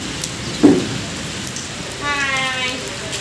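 Heavy rain pours down in a steady, soft wash of noise, broken by one dull thump early on and a short tonal warble near the end.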